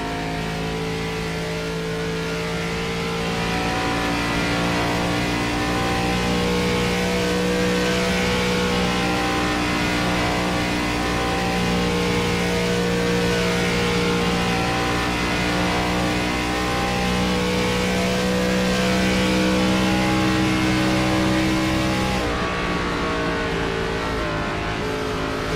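An ARCA race car engine, heard from on board at Texas Motor Speedway, screams at high revs with a loud, sustained tone that rises and falls through the turns, dipping sharply near the end.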